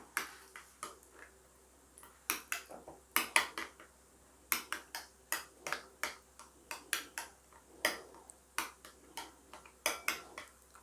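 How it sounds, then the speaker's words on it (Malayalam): Sauces stirred together in a bowl for a prawn cocktail dressing, with hot sauce, ketchup and mayonnaise. The spoon clinks repeatedly against the bowl in quick, irregular ticks, close and quiet, with no talking. "ഹോട്ട് സോസ്, കെച്ചപ്പ്, ഇത് മൂന്നും കൂടി നല്ലോണം മിക്സ് ചെയ്തെടുക്കണം."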